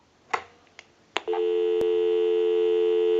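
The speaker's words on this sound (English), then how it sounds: "Give you some dial tone." A few faint clicks and clunks, then a steady dial tone from a Western Electric 302 rotary desk telephone hums on continuously, loud and close, with no talking.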